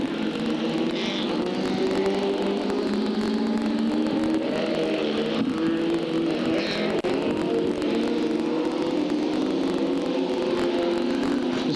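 F2 racing cars circle the track during a final at Hartlepool, a steady droning engine roar with rising and falling revs as cars pass at a distance, no voices over it.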